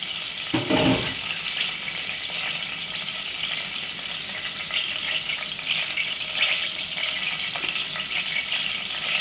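Garlic fries in a pan for an Egyptian koshari, giving a steady close hiss and crackle, with a brief bump of handling near the start.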